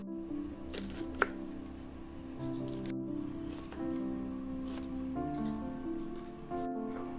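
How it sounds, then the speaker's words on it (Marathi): A knife finely chops banana flower with soft, quick taps and crisp cuts, some sharper than others, set against a steady tonal background hum. "तर आता हे जे केळफूल मी कापते ना"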